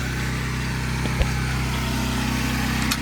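A pressure washer runs steadily throughout during house washing, a constant engine-like drone with a brief click near the middle and a small bump toward the end, no talking.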